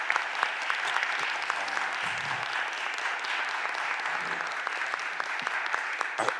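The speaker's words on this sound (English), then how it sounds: "Let's give them all a round of applause" An audience at a city budget hearing applauds in a sustained, even round of clapping, moderately loud and continuous, with a few louder individual claps standing out near the end.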